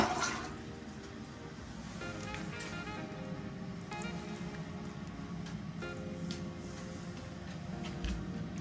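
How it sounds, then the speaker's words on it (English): A toilet in a newly renovated bathroom is flushed and refills, with a rushing, gurgling swirl of water followed by a steady trickling fill, moderately quiet and with no talk over it. "We're testing the toilet."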